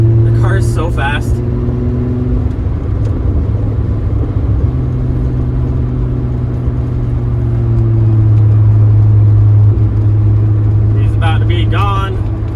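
Steady, loud engine drone from a Volkswagen VR6 cruising on the Autobahn, the tone shifting slightly midway, with short spoken bursts at the beginning and close.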